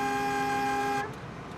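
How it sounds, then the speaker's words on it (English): A steady car horn blares loud and close for about a second, then cuts off, leaving low hum of congested city traffic in Bengaluru. "congested traffic,"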